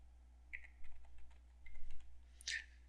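Keys on a computer keyboard are tapped in a short, quiet burst of clicks as a password is entered, close and soft against a faint steady hum.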